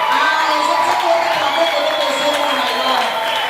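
A church congregation cheers and acclaims during a Monday worship service, a dense sustained wash of voices, shouts and clapping, loud and steady throughout.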